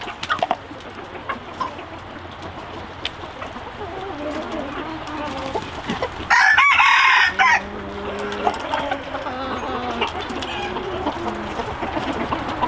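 Chickens cluck and a rooster crows on a Hmong American chicken farm, a loud close crow cutting through constant clucking and barnyard chatter, with someone talking faintly in the background.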